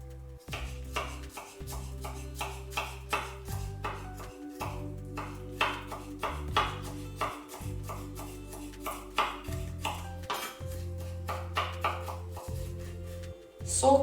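A knife taps rapidly and steadily on a cutting board, finely chopping garlic in a near, even rhythm over a low sustained musical hum with no talking.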